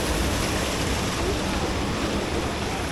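A waterfall in an Istrian village roars steadily and up close, a dense unbroken rush of falling water with a voice faintly mixed into the noise.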